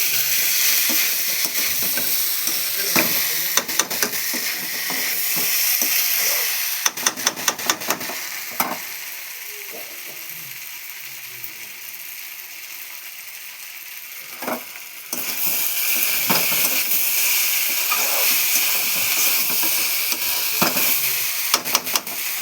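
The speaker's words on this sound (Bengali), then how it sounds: "তো দেখুন ভাজা ভাজা হয়ে আসছে।" Pasta frying in a home kitchen pan gives a steady sizzle and hiss, broken by repeated scraping stir strokes, with a louder burst of sizzling toward the end; no one speaks.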